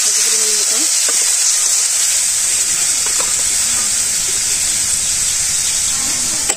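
Fried spice paste with ginger sizzling in a pan after a little water is added, a loud continuous hiss with steam and occasional faint stirring scrapes.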